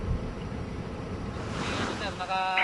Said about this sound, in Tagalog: malakas na hangin at pabugso-bugsong buhos ng malakas na ulan